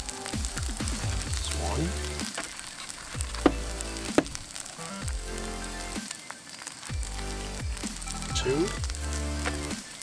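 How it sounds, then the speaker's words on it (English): Eggs sizzle in a pan over a campsite cooking setup, a moderate, steady frying hiss heard beneath someone talking and the clatter of cookware. "now we're gonna add our eggs"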